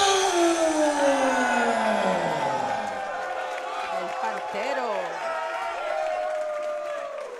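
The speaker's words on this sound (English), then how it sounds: "The crowd is hype here tonight for this main event." A crowd cheering and applauding at an MMA main event as the lightweight champion is introduced, a sustained loud roar of voices that slowly eases off, with a ringing tone fading under it.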